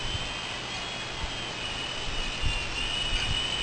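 A small E-Flite Blade mCX RC helicopter with a 150 mAh battery flies nearby, giving a steady high-pitched electric motor whine with a faint rotor hum that holds evenly throughout.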